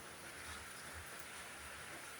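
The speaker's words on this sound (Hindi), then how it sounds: "बारिश शुरू हो गई, इसके चलते हम लोग यहाँ शिफ्ट हो गए हैं" Rain falls outdoors as a faint, steady, even hiss with no breaks.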